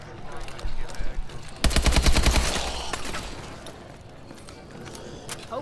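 Rapid automatic gunfire bursts out in a Call of Duty video game, a loud close rattle of repeated shots lasting about a second, then fading into rumbling echoes and scattered game noise.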